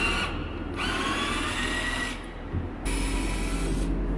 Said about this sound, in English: Now got a slightly heavier duty drill here.